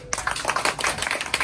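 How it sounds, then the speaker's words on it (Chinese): Audience applause at a presentation held at a Taipei hotel: a brief, dense patter of many hands clapping at moderate volume, with no voices over it. "各位爷爷帮我掌声鼓励一下啊"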